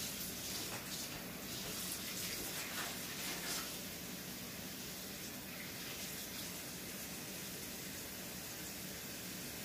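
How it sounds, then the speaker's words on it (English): Steady broadband rush of water running from a faucet while cabbage is washed under it, continuous and fairly faint for the whole stretch with no talking. "You gotta wash that cabbage up."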